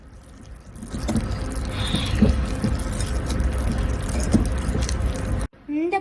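Water trickled little by little into an egg batter for crispy anchovy (nethili) fry, with wet sloshing and mixing noises building to a steady, moderately loud wash before a sudden break near the end.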